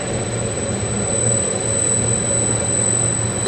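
Geared machine running after power-up, climbing toward 550 RPM: a loud, steady mechanical roar with a low rumbling hum and a thin high whine, constant and close throughout, no talk.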